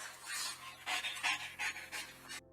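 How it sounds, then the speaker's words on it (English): A police dog pants heavily at a crime scene, quick close breaths in irregular bursts with brief pauses before cutting off. "the dog is panting a lot"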